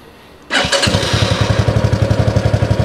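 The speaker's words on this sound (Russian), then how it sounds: "Давайте попробуем завести этот мотоцикл." An Izhtekhmash Scout-9 all-wheel-drive motorcycle engine cranks and catches after a short quiet moment, then settles into a loud, rapid, pulsing idle close by.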